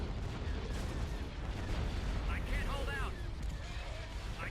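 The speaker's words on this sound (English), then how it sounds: "I saw the explosions" Explosions from ships and a shipyard in the space strategy game Thrawn's Revenge rumble as a dense, continuous low-frequency roar with scattered bursts, steady and loud throughout.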